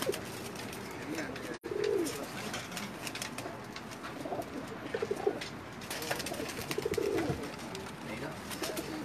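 Soft pigeon coos repeat a few times at a moderate distance from a rooftop pigeon loft in Jeddah, over a quiet outdoor background, with a sharp click partway through.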